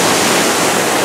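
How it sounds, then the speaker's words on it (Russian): Small sea waves wash over a stony shore on the Côte d'Azur near Nice, giving a steady, close, full rush of surf noise with no voices. "Это волны такие поднялись небольшие."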